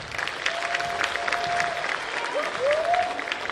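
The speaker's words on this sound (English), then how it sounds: "Let's clap it up for that." An audience at a freshman orientation applauds for the school band, a steady wash of clapping with some crowd noise and a faint voice or two cutting through.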